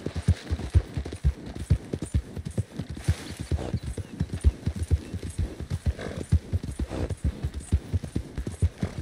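Horse hooves clip-clop in Red Dead Redemption 2, a steady, close rhythmic trot with dull thuds repeating evenly throughout, over a low background hum.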